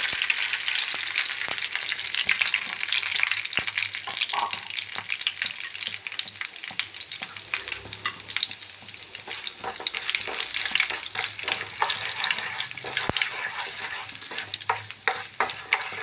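Urad dal and split dal frying in two spoons of coconut oil in a pan on the stove, a steady close crackling sizzle with occasional stirring scrapes throughout, no talking.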